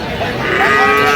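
A dairy cow lows at the Aftabganj cattle market among cows and calves for sale, one loud, close, sustained moo filling the whole moment.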